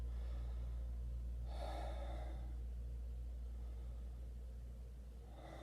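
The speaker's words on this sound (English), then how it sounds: "heavy breaths." Deep, heavy breathing at a relaxation session, one slow, airy breath in the middle and the start of another at the end, close and soft over a low steady hum.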